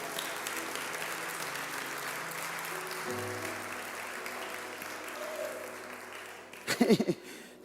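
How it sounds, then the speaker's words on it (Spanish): A church congregation applauds in praise, a steady wash of clapping mixed with sustained tones from music underneath, ending in a brief burst of louder sound. "Aplauda, aplauda el nombre del Señor."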